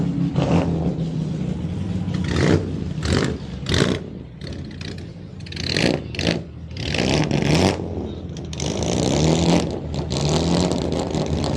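Vintage cars at the Goodwood Revival racing meeting, engines revving and roaring almost continuously with several surging bursts, loud and close amid crowd and pit-lane bustle.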